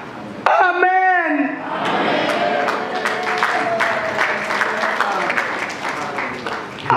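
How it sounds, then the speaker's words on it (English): Congregation applauding for Jesus at a church conference, a burst of many hands clapping that swells and holds steadily, with a voice speaking and cheering over it near the start. "Hebu ongeza makofi kwa Yesu."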